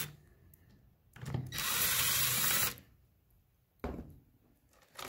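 A Ryobi impact driver whirs in one loud, sustained burst of about a second and a half as it backs out screws on a Ryobi P320 Airstrike nailer, with short mechanical clicks and handling noise before and after.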